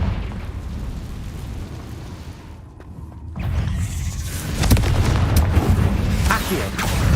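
Confringo blasting spell explosion in the Hogwarts Legacy video game, heard as a loud, broadband burst that swells and then carries on as a sustained rumble.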